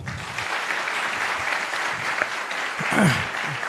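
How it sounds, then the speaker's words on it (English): An industry meet audience applauds a guest speaker with sustained, even clapping throughout, fairly distant and moderate, swelling slightly near the end with a brief voice or whistle. "let's have a big round of applause for Abhijit Pawar"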